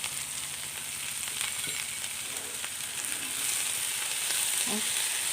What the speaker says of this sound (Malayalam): ഈ വെണ്ടയ്ക്കയുടെ വഴുവഴുപ്പൊക്കെ മാറുന്നത് വരെ ഒന്ന് വഴറ്റിയെടുക്കാം